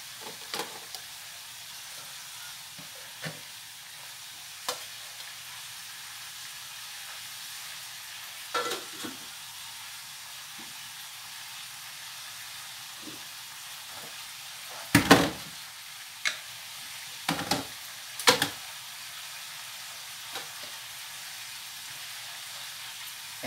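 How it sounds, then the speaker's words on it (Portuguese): Small pieces of sausage browning with meat in a pan for a chayote and egg stew, a soft, steady sizzle broken by a few sharp clinks and scrapes of stirring against the pan. "Eu botei uns pedacinhos de linguiça, deixei dourar aqui junto com a carne"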